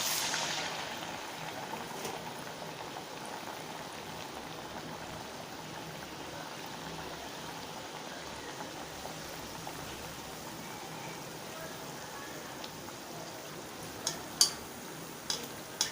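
Ragi appam frying in hot oil, a faint, steady crackling sizzle that holds evenly throughout, with a few sharp clicks near the end.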